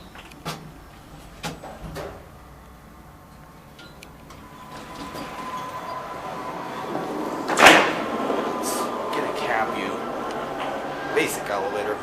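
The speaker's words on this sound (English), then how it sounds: "Watch the door close. There it goes, and that's it." A Kleemann machine-room-less traction platform elevator at Novokosino metro station slides its wide doors shut, a rising rumble ending in a clunk, amid clicks and station hum while someone talks.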